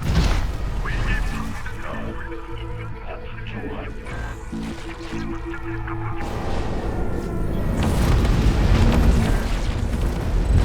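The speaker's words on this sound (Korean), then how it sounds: "대피하십시오. 곧 폭발합니다." A structure blows up in a StarCraft II co-op mission: a heavy, sustained boom that swells to its loudest near the end, layered over game music and effects.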